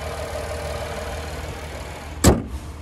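A 2024 Cadillac XT5's 3.6-liter naturally aspirated V6 idles with a steady low hum, close by, followed by a sharp thump like a door or hood closing.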